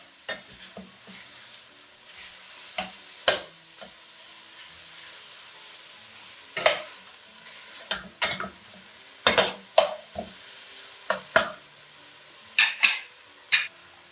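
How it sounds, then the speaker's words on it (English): Minced pork sizzles and fries in a pan for a Chinese-style stir fry with French beans, with a steady hiss broken by repeated sharp scrapes and clacks of a spatula stirring against the pan. "Turn the meat over and let it cook on the other side."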